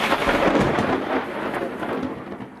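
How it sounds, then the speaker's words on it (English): Thunder from a thunderstorm cracks loudly and then rolls off into a fading low rumble, with rain hissing softly beneath it and no voices. "You see a bolt of lightning and then you hear the rumbling and the crashing of the thunder"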